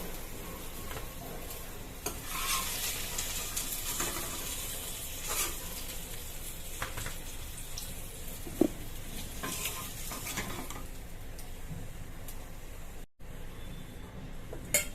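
Pointed gourd (potol) frying in hot oil, a steady dense sizzle running throughout with occasional stirring scrapes and a brief utensil clink, close and continuous without speech.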